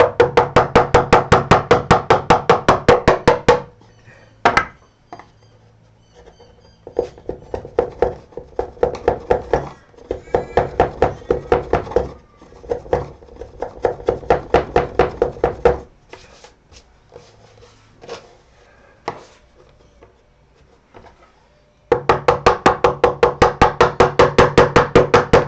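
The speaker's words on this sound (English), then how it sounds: "Just using that bevel just to scoop that out." A chisel's bevel scoops wood from a guitar in a quiet workshop, giving a series of short, close scraping and tapping strokes in bursts, with stretches of steady rhythmic noise at the start and end.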